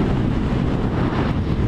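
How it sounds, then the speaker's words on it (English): Strong wind buffets the microphone by the sea near the Humber Bridge, a loud continuous low rumble with no voices. "It's quite windy up here though"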